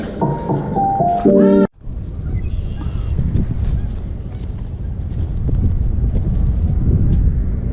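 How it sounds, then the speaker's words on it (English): Steady wind noise buffets the microphone throughout, a broad low rumble that follows a brief musical jingle at the start. "it's a little windy"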